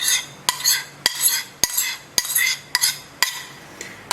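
A spoon stirs cherry juice thickener into a red berry compote in a pot, with sharp regular clinks against the rim about every half second between soft swishing strokes.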